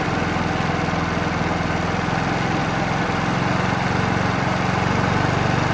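A 50cc petrol scooter engine runs steadily at close range during carburetor mixture tuning, its buzzing drone continuous and unbroken with a slight rise in pitch toward the end.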